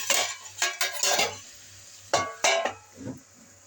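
Rice and fish cooking together in a pot, with a utensil stirring and scraping against the metal in short bursts alongside a faint sizzle, close and fairly loud with no talk.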